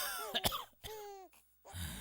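An old man gives a few harsh, raspy coughs close by, then a short pause, then a rough throat-clearing breath.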